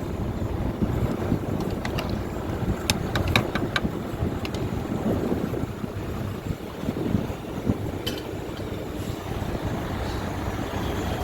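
Wind blows steadily outdoors where rice is being cooked over a gas flame, a continuous low rushing roar with gusty buffeting on the microphone throughout.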